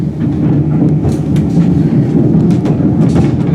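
The Snowdon Mountain Railway train climbs the side of the mountain toward the summit, a steady, loud, close rolling rumble with rhythmic clattering of wheels on the rails throughout.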